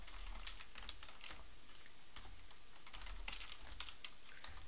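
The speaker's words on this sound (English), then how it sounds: "Aren't you glad you came here just to watch me type?" Rapid typing on a computer keyboard while writing a Linux Bash shell script, with a close, continuous patter of key clicks in quick irregular bursts and no talk.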